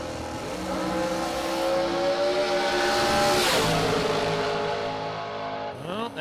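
A drag race car makes a full pass down the track, its engine a loud sustained roar that swells to a peak midway and then fades as it pulls away, with a crowd-like wash beneath.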